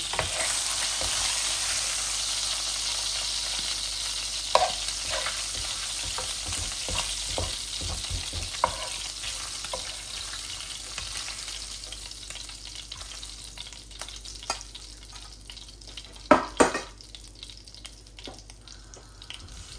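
Tilapia fish frying in hot oil until crispy, a steady broad sizzle filling the background with occasional louder spatters and scraping stirs, no voices.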